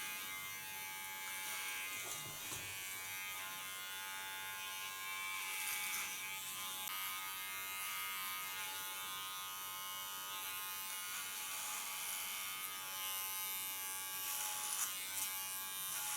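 Electric hair clipper fitted with a large flat comb buzzing steadily through hair during an asymmetric haircut, a continuous close, bright drone with slight shifts in pitch as the blades move across the head, with no talking.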